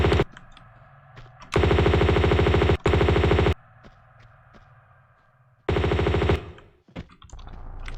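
M16 rifle fire in the Tomb Raider II level Wreck of the Maria Doria, loud rapid automatic bursts, two long back-to-back volleys followed by a third after a pause, with quieter game ambience and clicks between them.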